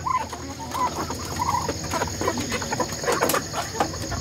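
Ducks near a farmer on an ube farm give a continuous, close run of clucking and quacking calls over outdoor background noise.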